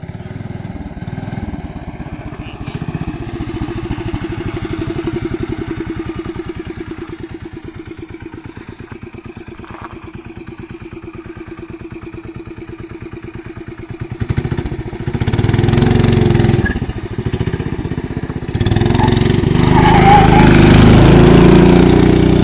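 A Tecumseh small engine on a 1975 Owosso Exalter runs rough, then revs up louder as the throttle is raised, with brief talk over the steady mechanical clatter.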